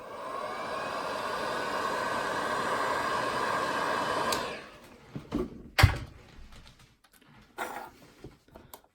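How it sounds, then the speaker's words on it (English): Heat gun shrinking heat shrink tubing on Les Paul guitar wiring, a steady loud blowing hiss for about four seconds that cuts off, followed by a few brief clicks and knocks. "Just shrink it down with a heat gun."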